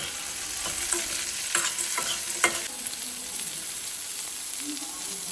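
Capsicum, ginger and tamarind sautéing in a pan, with a steady sizzle and hiss and a few scraping stirs of a spoon against the pan, close and alone without talk.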